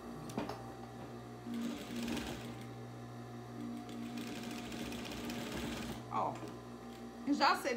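A sewing machine stitching fabric doll bag legs, several runs of rapid, even mechanical whirring separated by short pauses, close and moderately loud, with someone speaking softly at times.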